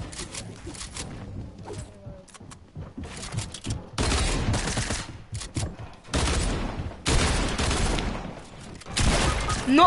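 Video-game gunfire in bursts of rapid shots, loud and close, with several sustained volleys separated by short quieter gaps, ending in a headshot on the player.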